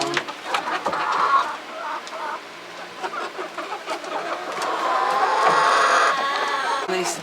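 Chickens settling into their coop at bedtime cluck and murmur continuously at close range, with overlapping soft calls and occasional sharper squawks, while a person talks in the background.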